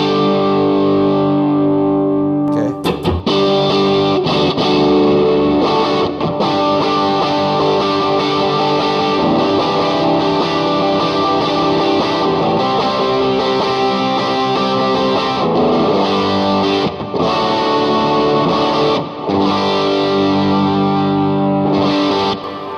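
An electric guitar plays through a BD-2 overdrive pedal with the gain turned up, giving a loud, continuous driven tone with sustained chords and brief picking gaps, and no talking.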